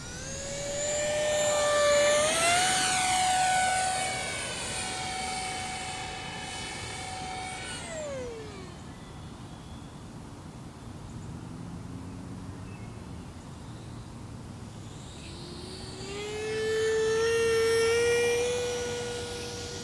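An H-King F-18 Super Hornet 50mm 12-blade EDF model jet on a 4S power system whines past at high pitch, rising in speed, fading away, then returning with a second loud pass.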